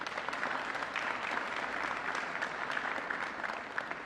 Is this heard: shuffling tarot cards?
no